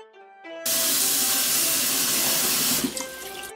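Carrots and other vegetables rinsed under a running kitchen tap: after a brief quiet tonal hum, the water suddenly gushes in a loud steady splashing stream, then shifts and splatters as the vegetables move beneath it near the end.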